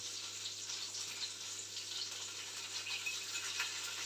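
Tomato paste frying in a pan, a steady soft sizzle with faint crackling hiss continuing evenly throughout, quiet and close with no voices.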